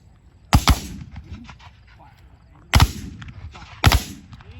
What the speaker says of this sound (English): When the first two files are in place, they begin firing by file.